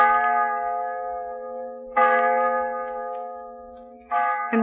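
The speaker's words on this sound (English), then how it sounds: "what I'd like to hear is the old village church bell" Old village church bell tolling three times, each strike ringing out clear and resonant and fading slowly before the next, with no talk.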